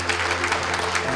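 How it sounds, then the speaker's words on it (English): Brief, steady applause from an audience at a public heroes appreciation awards event, a dense wash of clapping with no pauses. "another round of applause for Peace Island"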